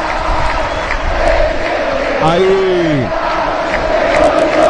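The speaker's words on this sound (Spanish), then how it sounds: "Y ahora sí el aplauso generalizado del Parque Central luego de esta victoria." A large stadium crowd at Parque Central applauding after a Nacional victory over Peñarol, a dense continuous roar of clapping and cheering with a single loud whistle rising and falling midway and a commentator speaking over it.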